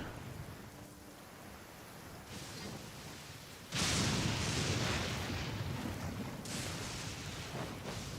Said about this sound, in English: these lightning storms out here, crazy.